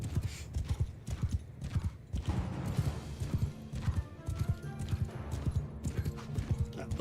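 A horse in Mount and Blade II: Bannerlord clip-clops at a steady gallop throughout, close and loud hoofbeats with a brief whinny, over game ambience.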